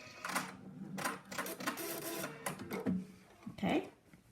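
A sewing machine stitches a buttonhole in quick bursts of rapid mechanical clatter, with brief pauses and faint clicks between runs, fairly close but quiet.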